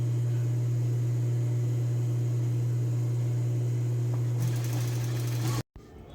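A domestic sewing machine runs steadily, stitching a blouse seam at a constant hum with a faint rhythmic needle clatter, then stops abruptly near the end.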